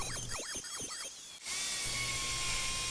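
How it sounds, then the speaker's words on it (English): Router cutting a recess in a board to hold a small Kreg pocket hole jig, a high, whining spin with a wavering pitch that settles into a steady, fairly quiet drone after a brief dip. "This area that I'm routing out here is for the small Kreg pocket hole jig"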